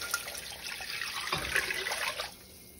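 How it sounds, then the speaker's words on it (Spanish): Water poured into a cooking pot of softened tomato for meatball soup, a close, steady splashing gush lasting about two seconds before it cuts off, with no talking. "vamos a echar agua"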